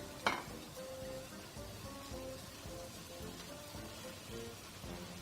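Peppers hitting a hot pan with lamb, a soft, steady sizzle with a sharper crackle at the start, fairly quiet and unbroken throughout.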